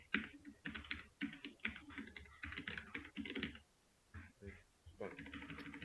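Computer keyboard keys pressed in quick bursts, including a Ctrl+L shortcut to clear a terminal during a git setup, clicking close and clear with a short pause, under a voice talking.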